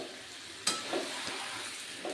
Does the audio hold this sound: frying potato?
yes